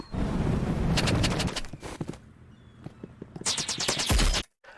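Rapid revolver gunfire in the Roblox game Rivals, a fan-the-hammer burst of loud cracks in quick succession, then a pause with scattered shots and game sounds before a final dense volley.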